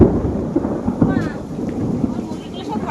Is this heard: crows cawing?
no